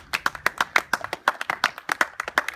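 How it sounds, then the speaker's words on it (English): Scattered hand clapping from an audience at a tournament night, a quick run of sharp claps that is close and lively but not a full roaring applause. "Can I get a round of applause like you mean it?"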